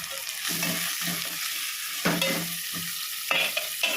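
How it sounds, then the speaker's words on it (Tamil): Onions being sautéed in a pan with a ladle for a gut gravy, giving a steady close sizzle with repeated scraping stirs at a regular rhythm and no talking. "இப்போ கரண்டி எடுத்து வதக்கிட்டோம்."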